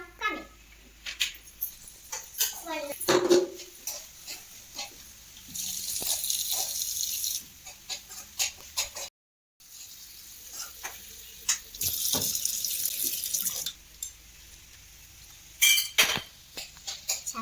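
Tap water runs over cut jackfruit pieces and jackfruit seeds in a kitchen sink, coming in a few steady bursts with small clinks and handling noises in between.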